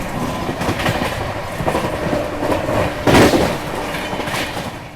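A train at platform 4 of Indore Junction, rolling loud and near with rhythmic clickety-clack wheel noise and a sharp metallic clank partway through.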